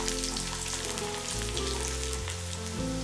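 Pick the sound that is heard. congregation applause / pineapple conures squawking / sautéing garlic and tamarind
sautéing garlic and tamarind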